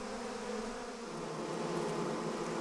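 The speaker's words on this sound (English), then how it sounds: "these killer bees have reached Arizona" African killer bees make a steady, dense buzzing drone that holds at an even level throughout, with no voices over it.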